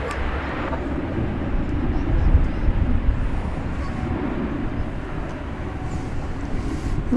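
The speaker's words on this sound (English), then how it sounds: "Getting ready to take off is American Flight 2114 to Santa Ana," American Airlines jet on flight 2114 to Santa Ana, California, taking off from DFW Airport, a steady broad low roar held at a moderate distance for the whole stretch.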